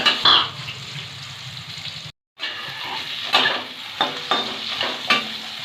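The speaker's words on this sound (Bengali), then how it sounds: "আলুটা লবণ হলুদ মাখিয়ে ভেজে নেব।" Potatoes coated in salt and turmeric frying in hot oil, a close, steady sizzle broken once by a brief silence, with stirring scrapes and light clinks recurring.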